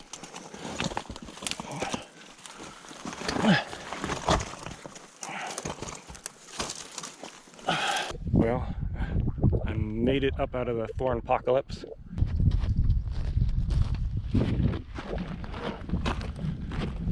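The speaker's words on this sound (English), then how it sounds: "I hear a donkey." Burros in the Mojave desert bray with a drawn-out, wavering call in the middle, among crunching footsteps through brush and someone talking nearby.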